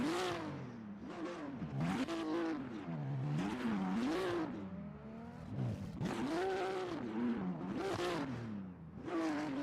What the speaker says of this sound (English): Nick warming up his tires in not a burnout box.